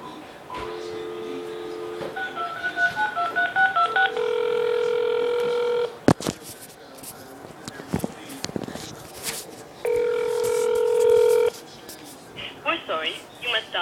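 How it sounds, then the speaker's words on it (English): Touch-tone telephone keypad dialed in bursts of DTMF tones, with steady held tones between key presses, while people talk around it in a car during a snowstorm. "Try and dial right now."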